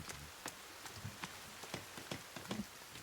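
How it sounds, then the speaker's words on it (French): Rain falling in The Forest survival video game, a soft patter of scattered drops with a few sharper taps over a quiet background hiss. "Il pleut."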